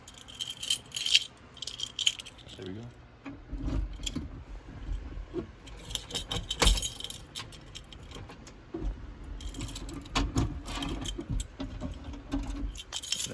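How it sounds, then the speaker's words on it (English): A big bunch of keys on a keychain jangles and rattles in irregular bursts over several seconds, close up, with a pause partway through and a brief spoken comment near the end. "I have a million keys on my keychain right now"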